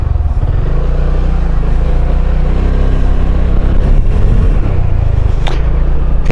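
Kymco Downtown 350i ABS scooter pulling away on a test ride, its engine a loud, steady close-up drone with rising pitch as it accelerates, continuous throughout without speech.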